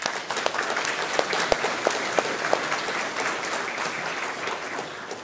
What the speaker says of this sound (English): give applause to Alise